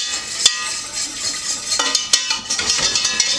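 A utensil stirs Philly cheesesteak mixture in a pot, scraping steadily with several sharp clinks against the metal sides, close and fairly loud, with no voice.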